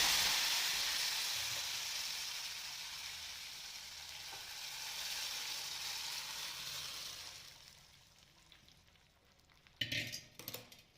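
Thinly sliced garlic and dried red chillies sizzle steadily in hot oil for a tempering, a dense frying hiss that fades gradually, followed near the end by a few clanks of a utensil against the pan.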